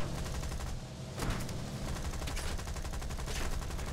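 Aircraft cannon fire in War Thunder, a dense, loud stream of rapid shots running steadily through the whole clip with a brief dip near the start.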